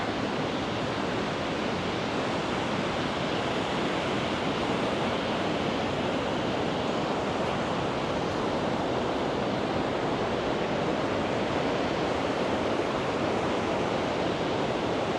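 Surf breaking on Da Nang beach in Vietnam during the rainy season, a steady, broad wash of waves and wind noise with no distinct individual breakers and no voices.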